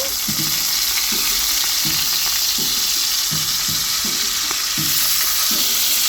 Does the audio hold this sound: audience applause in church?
no